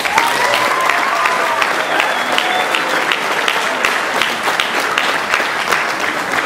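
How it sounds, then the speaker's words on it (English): Party guests, around 170 people, applaud their hosts in a loud, dense burst of clapping that stays strong and steady from start to finish, with faint crowd murmur mixed in. "Let's all give them a round of applause."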